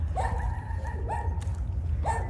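Dog barking at a house: three spaced, moderately close barks over a steady low background hum, with no clear speech.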